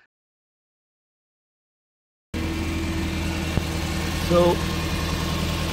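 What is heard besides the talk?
Toyota minivan engine idling, idle rising as PCV valve pulled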